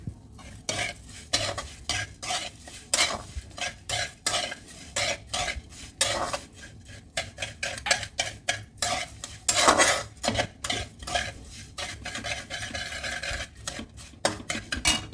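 A spoon scrapes and clinks repeatedly against a pan while gujiya filling with cardamom seeds is stirred, irregular close rhythmic strokes over a faint sizzle, with no talking.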